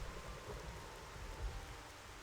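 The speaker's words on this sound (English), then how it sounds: "Could just make it stop raining, please." Rain falls in Xenoblade Chronicles: Definitive Edition as a faint, even wash of steady hiss with no distinct drops or thunder standing out, heard alone.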